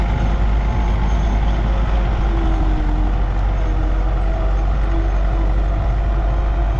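A tractor, an MTZ 82 or LTZ 60, pulls away across frozen winter ploughing ground with a heavy, steady low diesel rumble and a faint rising tone, loud and continuous without voices.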